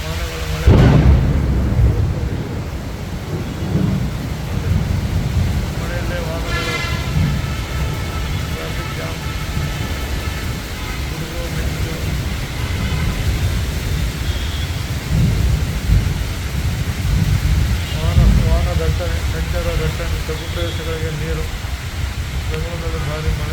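Heavy rain pours steadily during a thunderstorm in Bangalore, with a loud thunderclap at the start and further rumbles later, and a voice speaks intermittently over the downpour.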